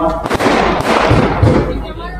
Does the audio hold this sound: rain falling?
no